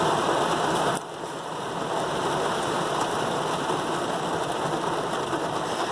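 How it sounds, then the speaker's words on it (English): Heavy rain pours down in a dense, constant hiss that briefly dips after a sharp tap near the start, then swells back to a steady loud downpour with no voices. "Boy, the rain is really coming down now."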